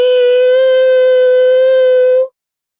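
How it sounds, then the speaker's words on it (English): A harsh electronic alarm sounds from a computer terminal at an airport check-in counter, one loud, steady, buzzing tone held for about two seconds before it cuts off abruptly into silence. "It was a harsh, urgent, double-toned siren that echoed from the computer terminal."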